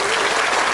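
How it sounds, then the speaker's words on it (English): Dense, loud audience applause fills the whole moment as a steady wash of many hands clapping at once, with no breaks. "we give you all a round of applause for that"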